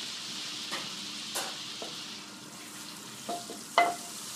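Melted butter sizzling in a hot pan ahead of a soufflé omelette: a quiet, even frying hiss broken by a few faint clicks and taps of utensils, the loudest near the end.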